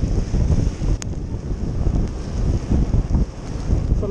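Strong wind roars across a microphone outdoors during heavy rain, a loud steady rumbling gust with faint hissing above it, continuing without a break.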